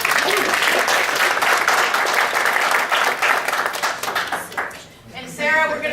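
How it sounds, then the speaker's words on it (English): Audience at a PAS meeting giving a speaker named Sarah a warm round of applause, dense continuous clapping that thins toward the end before a voice resumes. "I think we should all give Sarah a big hand of applause"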